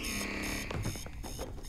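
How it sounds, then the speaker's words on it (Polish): A repeating electronic alarm in Starfield, steady tonal beeps sounding for the first half before breaking up into scattered game sounds and effects. "cały czas ten alarm włączają"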